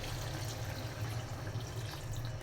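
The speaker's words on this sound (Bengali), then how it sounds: "এখন পানি দিয়ে দিচ্ছি," Water pours into a pot of rohu fish curry in tomato gravy, making a steady, continuous splashing rush that stays even and fairly quiet throughout, with no voices.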